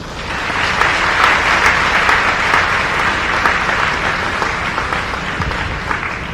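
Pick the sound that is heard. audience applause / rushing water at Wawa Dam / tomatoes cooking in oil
audience applause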